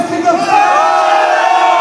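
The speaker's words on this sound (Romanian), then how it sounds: "Cine e cu mine, strigă?" A packed crowd at a Romanian manele concert in a disco near Milan roars and shouts back at the singer, a loud continuous massed chant that fills the space.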